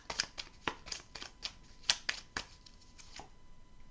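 Tarot cards being drawn and handled at close range, a quick irregular run of crisp snaps and paper flicks that thin out toward the end, with no talk over them.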